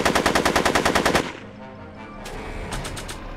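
Rapid automatic gunfire from the video game Back to the Future, a loud burst of evenly spaced shots for just over a second, then quieter game ambience with a few faint clicks and taps.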